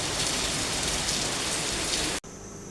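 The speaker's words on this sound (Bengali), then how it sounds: "অনেক জোরে বৃষ্টি আসছে" Heavy rain pours onto a rooftop in a dense, continuous wash of noise, cutting off abruptly near the end to a faint quiet room tone.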